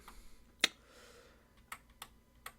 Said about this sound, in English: I'm sorry if you hear my keyboard in the background.